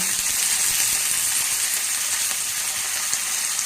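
Garlic and curry leaves sizzle steadily in hot oil in a pan while a sardine fish kuzhambu is being cooked, a bright, even crackling hiss close by with no voices.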